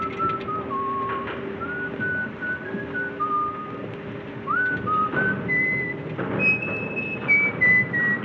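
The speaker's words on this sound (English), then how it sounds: "You're whistling, sailor." A sailor whistles a wandering tune aboard a ship, clear melodic notes rising and falling over a steady low engine hum, close and alone with no talk.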